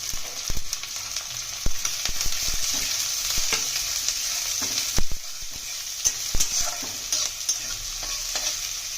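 Chopped onion, garlic and green chili frying in a wok, a constant loud sizzle broken by frequent stirring scrapes and knocks of the spoon against the metal.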